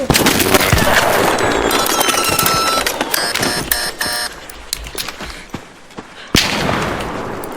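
Gunfire in the video game Arc Raiders comes as dense, rapid bursts of sharp cracks mixed with clattering mechanical game effects. It is loud at first, then thins out into scattered shots before one more heavy burst.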